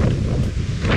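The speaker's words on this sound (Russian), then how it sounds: "Сильный ветер, наверное, даже еще сильнее, чем был до этого." Strong wind buffets the microphone at a small stone-stepped island viewpoint on sunny, windy Coron in the Philippines, a loud continuous low roar with gusting rumble for the whole moment.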